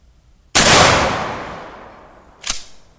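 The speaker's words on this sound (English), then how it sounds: "Shoot a 12 gauge." A 12 gauge shotgun loaded with buckshot fires one loud, sharp blast into leather, and the report decays over about two seconds before a shorter second crack follows.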